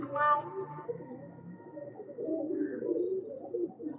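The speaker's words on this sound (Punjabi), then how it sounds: "ਚੈੱਕ ਕਰੋ ਹੁਣ ਕਬੂਤਰ" Racing pigeons coo close by in a loft setting, low soft throaty calls repeating over several seconds, with a few brief higher chirps and faint talk in the background.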